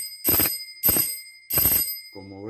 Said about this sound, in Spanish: Como ven, el timbre funciona correctamente.